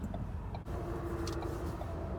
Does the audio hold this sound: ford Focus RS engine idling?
yes